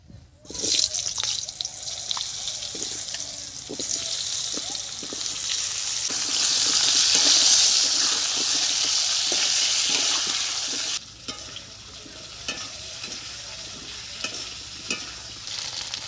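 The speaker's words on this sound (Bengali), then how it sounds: "মাছ ভাজা তেলের মধ্যে আমি আলুগুলো দিয়ে দিচ্ছি" Potatoes stirred in oil left from frying sea fish, in a village kitchen: a bright, loud sizzle swells after they drop in, with repeated spoon scrapes and knocks against the pan, easing partway through.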